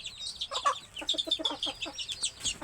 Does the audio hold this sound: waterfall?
no